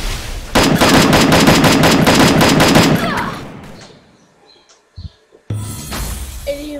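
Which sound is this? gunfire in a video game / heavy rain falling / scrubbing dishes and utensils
gunfire in a video game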